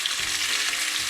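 Pork chops seasoned with black pepper fry in a pan, giving a steady, close sizzle with a broad airy hiss and faint pops, alone with no talk.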